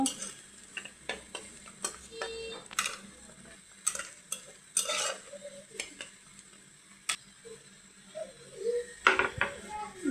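Onions sizzle gently in a pan and are stirred, with repeated clinks and scrapes of a utensil against metal and a soft voice now and then in the background.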